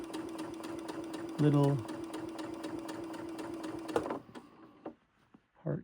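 A sewing machine stitching the side seams of a shirt runs in a steady, fast mechanical whir for about four seconds, then stops, with brief handling clicks after; a voice speaks briefly over it.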